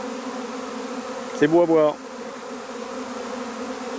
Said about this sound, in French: Je me suis mis en macro pour qu'on voie de plus près la frénésie des abeilles